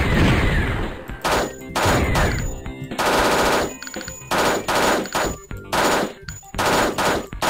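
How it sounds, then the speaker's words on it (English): Rapid bursts of automatic gunfire from a gun in the video game Thing Thing 2, loud, close clusters of shots separated by brief pauses, with no voices. "I don't even need to look at you to be able to shoot you"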